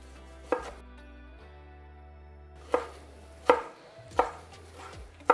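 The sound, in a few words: knife chopping plum tomatoes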